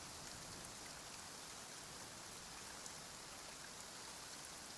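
Steady rain falls in Genshin Impact, a soft, even hiss of drops that continues unbroken at low volume with no voices.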